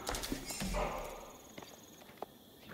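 Mounted horsemen riding off in Age of Empires 4, a quick patter of hoof clip-clops with a short horse snort, fading into faint game ambience.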